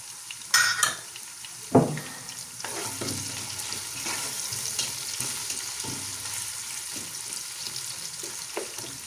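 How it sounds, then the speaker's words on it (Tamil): Chicken rice ingredients fry in a pan at home, with a steady soft sizzle under a few sharp clanks and scrapes of a utensil against the pan early on, followed by occasional light stirring taps. "இது நல்லா பொரிஞ்சு கொண்டிருக்குது"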